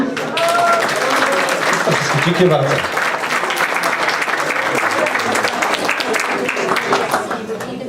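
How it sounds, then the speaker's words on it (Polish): Big applause for the laureates at a Kraków society Christmas wafer gathering in Chicago, loud sustained clapping filling the room, with a brief spoken thanks at the start. "Duże oklaski"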